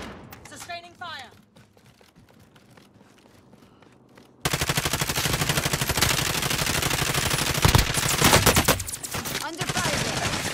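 Sustained automatic gunfire in a video game firefight, breaking in suddenly after a quieter stretch and continuing as a loud, dense, rapid rattle to the end, with brief chatter early on.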